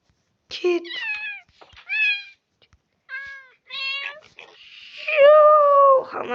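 A kitten meows repeatedly in a video game, a series of short, high, clear mews with pauses between them, ending in a longer, louder drawn-out cry, with no talk over it.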